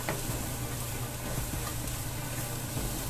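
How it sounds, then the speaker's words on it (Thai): Julienned potatoes for a Korean-style stir-fry hiss loudly in a pan, a dense continuous sizzle with faint ticks of stirring, heard up close with no one talking. "ถ้าผัดจนสุกนะคะ"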